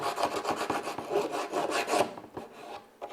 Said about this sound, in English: the base will need some filing very quickly right now